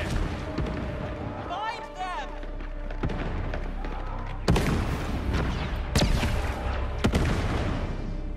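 Explosions set off as a diversion in the Star Wars Outlaws video game boom and thud in a rolling series, with heavy blasts near the middle and end over a low rumble, while a voice speaks briefly earlier on.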